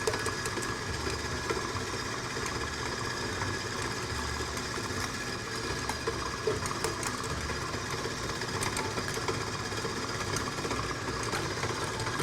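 Electric mixer beating butter and eggs for a banana cake, a quiet steady motor whir with a continuous mechanical hum and faint rattle throughout.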